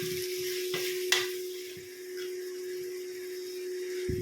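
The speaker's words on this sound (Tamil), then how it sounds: "நான் ஒரு நாலு வெங்காயம் வெட்டி வச்சுருந்தேன் பாருங்கள் அதை அப்படியே தட்டிடலாம் தட்டிட்டு அப்படியே வதக்கிடணும்" Chopped onions sautéing in a pan for biryani, a steady low sizzle under a constant hum, with a few sharp clinks of a utensil against the pan, close and without speech.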